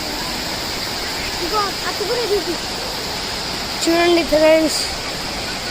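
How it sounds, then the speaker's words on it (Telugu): The Narmada Maner waterfall gives a steady, broad rushing roar throughout. Someone talks briefly over it. "అదిగో అక్కడ ఒక వాటర్ ఫాల్ ఉంది"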